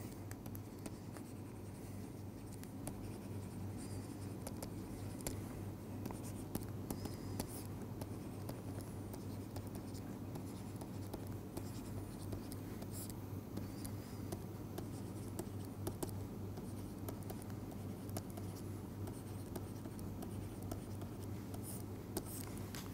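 Pen or chalk scratches out matrix work by hand in a quiet lecture setting, a faint, continuous scraping over a steady low hum, with no talk.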